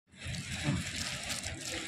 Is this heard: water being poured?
yes